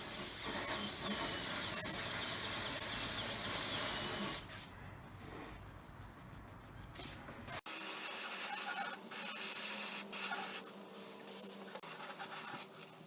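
Sealer sprayed onto a repaired damaged Tesla wheel for a gloss finish, a loud steady aerosol hiss for about four seconds, followed by quieter short bursts and handling noises close by.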